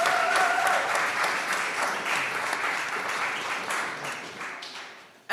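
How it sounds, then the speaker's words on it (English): Audience at a book launch applauds an actress, a dense, steady roar of clapping from many hands that gradually thins and fades, with a faint voice early on and an abrupt sound at the very end. "Give her a round of applause."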